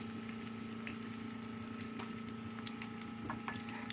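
Chopped onions sizzle in hot oil in a wok (kadhai), a faint, steady frying hiss with small crackles and pops scattered throughout.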